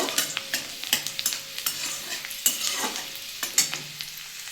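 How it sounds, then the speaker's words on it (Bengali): Chopped garlic, added after nigella seeds, fries in hot oil in a pan for radish greens, with a close crackling sizzle and a string of sharp spatula taps and scrapes as it is stirred. "আমি কুচানো রসুন দিয়ে দিলাম এটা একটু ভেজে নেব"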